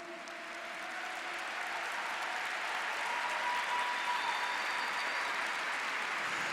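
A church congregation applauds during a worship service, a broad, steady roar of clapping that swells gently and sustains, somewhat distant and reverberant.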